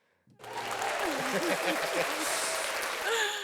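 Applause added as an editing effect plays under a speaker's voice, a continuous burst of clapping and cheering that sets in sharply after a short quiet start and carries on to the end.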